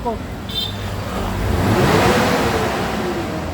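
A Mitsubishi Adventure engine revs up toward 5,000 rpm and climbs in pitch, its rough roar swelling and holding near, with a brief voice at the start.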